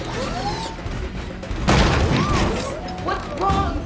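Gunshots and crashes from a television show, heard as several dull booms and thumps mixed with whooshing effects and brief voices.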